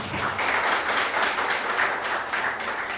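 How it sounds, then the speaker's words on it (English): An audience at a live-streamed arts event applauds for Professor Abdullah Adamu, a dense, steady round of clapping from many hands that holds at an even level throughout, with no one speaking over it. "please, a round of applause for him"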